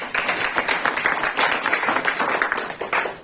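An audience at a DXN gathering in Sharjah claps loudly, a dense burst of rhythmic applause that holds steady throughout and thins slightly at the end.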